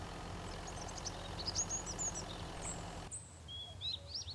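A vehicle engine idles in the survival video game Mist Survival as a low, quiet, steady rumble with faint bird chirps above it. The rumble cuts off partway through, leaving only the birds.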